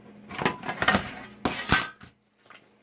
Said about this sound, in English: I'm going to take my X-Acto knife out of this kit